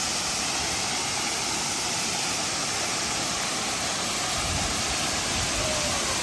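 Aliw Falls pouring as a loud, continuous rush of falling water, close and steady throughout.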